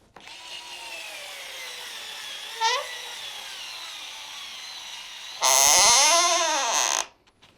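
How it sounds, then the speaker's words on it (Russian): Bosch GO 3 cordless screwdriver whirring steadily as it drives a screw, a brief pitch dip midway, then a loud, rising high whine as the screw seats before cutting off, close and alone. "Аналогичное действие сейчас произведем с Bosch Go 3. Закручиваем."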